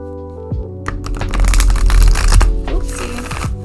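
Tarot cards are shuffled close up in a quick flurry of riffling, papery snaps and rustles lasting a few seconds, with no talking.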